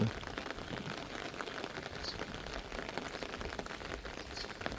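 Rainwater runs down into a flooded rice paddy after a night of rain, a faint, even rushing and pattering that holds steady and is heard alone.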